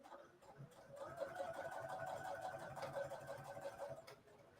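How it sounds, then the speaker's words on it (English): A quiet sewing machine steadily stitches around the edge of a textured holiday fabric project, a soft continuous hum with faint mechanical clatter, close by and alone. "It's nice to have a quiet sewing machine."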